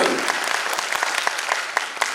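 An audience claps at the Bihar Gaurav festival opening session in Patna, a dense, even wash of applause with sharper individual claps popping through.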